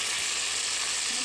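Ginger, garlic and green chilli paste hitting golden fried onions in a pot, a loud, continuous, close hiss of frying with no pauses.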